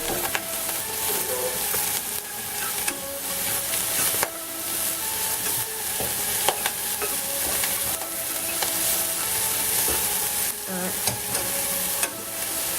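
Onions fry and caramelise in a saucepan while being stirred. A steady, close sizzle and crackle continues throughout, broken by scraping clicks from the utensil against the pan. No one speaks.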